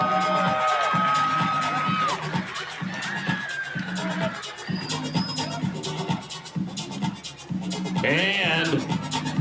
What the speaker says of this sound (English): put your hands together, keep the applause going for the 11-year-olds from Meridian, Mississippi